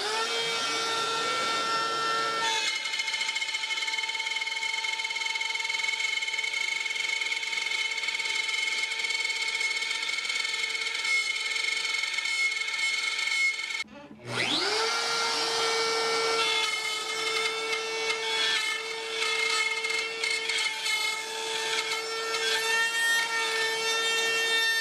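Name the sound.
wood router cutting a groove in a cutting board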